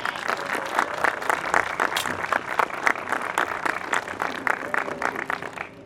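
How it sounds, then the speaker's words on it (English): Audience applauds the board of directors at an outdoor groundbreaking ceremony, a steady stretch of fairly distant, even clapping with no talk. "Let's give them another round of applause."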